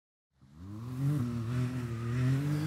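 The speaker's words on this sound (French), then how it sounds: "Andrew est en train de réchauffer la machine ou de se réchauffer lui." A quad ATV engine starts up and revs as it warms, a close, steady drone that climbs and settles, heard alone without talk.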